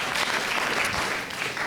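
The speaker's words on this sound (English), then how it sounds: "a nice warm round of applause for Jasper van den Berg, please, ladies" Warm applause from a festival opening audience for Jasper van den Berg, a thick, continuous wash of many hands clapping at a moderate distance, steady throughout.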